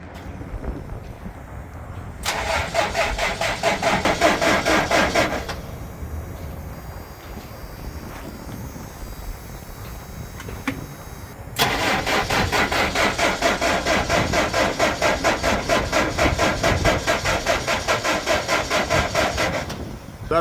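A Franna crane's diesel engine being cranked in two long bursts, the starter whirring for about three seconds, a pause, then a longer cranking run of some eight seconds that never catches; outdoors, with wind noise between attempts.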